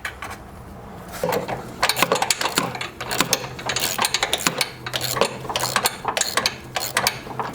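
Wrench work tightening the engine mounting bolts on a John Deere riding mower during an engine swap: bursts of close, sharp metallic clicking and clinking that repeat steadily after a quiet first second.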